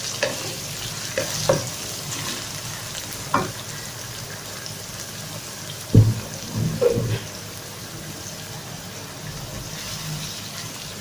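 Chopped onions and spring onion frying in oil in a pan, a constant crackling sizzle like light rain, with several sharp spoon knocks and scrapes scattered through, near and without voices.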